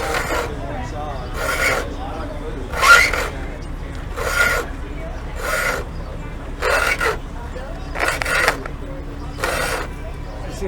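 A file sharpens a hand saw in a woodworking demonstration, with about eight rhythmic rasping strokes at an even pace under faint background murmur.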